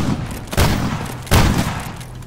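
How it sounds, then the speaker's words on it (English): Enemy gunfire in the shooter game STALKER GAMMA lands as two loud, close bursts about a second apart, each a heavy boom that rings out and fades. "they're shooting at me."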